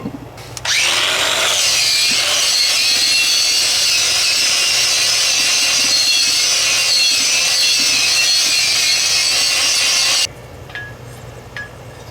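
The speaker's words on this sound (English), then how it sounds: "I'm gonna clean up the rotor with a wire wheel" A wire wheel on a power tool grinds against a brake rotor from a 2017 Ford Fusion during front wheel bearing work, a loud, steady abrasive whine lasting about ten seconds before cutting off, close by with no talking.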